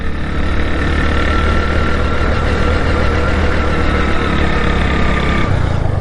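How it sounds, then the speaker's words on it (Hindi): A steady BS6 motorcycle engine drone while riding, constant and loud, with wind and road rumble throughout and no change in pace. "अभी मेरी बाइक का साउंड कैसा है।"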